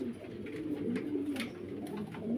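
A Lahori pigeon coos in a low, steady, rolling murmur that runs continuously through the whole stretch, fairly close and moderately loud, with no voices present.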